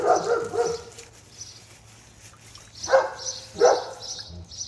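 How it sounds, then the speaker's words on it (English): A dog barks once, then twice more after a pause, loud and fairly close, with faint higher noises in between. "Sorry about the dog in the background."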